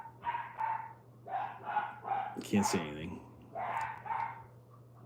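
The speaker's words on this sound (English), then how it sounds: "Oh, my dogs are barking." Pet dogs bark in short bursts, a few clustered yaps before and after a spoken phrase, moderately close and clear.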